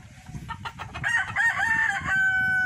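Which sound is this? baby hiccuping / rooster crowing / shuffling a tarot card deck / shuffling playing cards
rooster crowing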